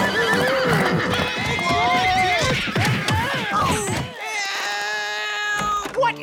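Cartoon horses neigh and whinny repeatedly over the steady clip-clop of hooves, with knights on horseback in a suburban backyard. The sound is loud and busy, then briefly drops to a thinner tone near the end.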